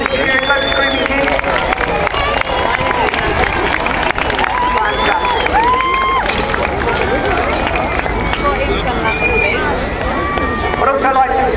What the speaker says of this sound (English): Let's give a big round of applause then as he comes in, ladies and gentlemen. Loads of cheering, loads of screaming kids.